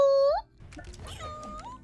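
A person imitates a cat with one drawn-out, rising meow, loud and close, followed by a brief stretch of quiet talking in a voice chat.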